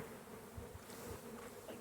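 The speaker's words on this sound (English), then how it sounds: "I'm just going to shake these bees off" Honey bees buzz in a steady, close swarm drone as they are shaken off a hive frame by a beekeeper, with soft low thumps from the frame beneath the continuous hum.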